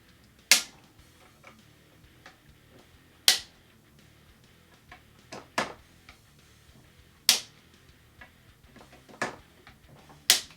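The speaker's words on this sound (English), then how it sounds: "let's go ahead and torque this back down" A torque wrench tightens rifle scope mount screws, giving sharp isolated clicks every second or two, close and crisp against a quiet background.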